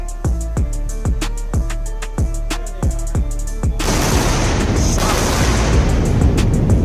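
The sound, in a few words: double sonic booms from two landing rocket boosters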